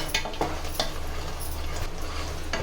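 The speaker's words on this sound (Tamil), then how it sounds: "இப்படி நல்லா கலரி விடுங்க" A spoon stirs a thick ground crab masala paste in a pan, scraping and clinking against the metal in a few irregular strokes over a soft, steady sizzle.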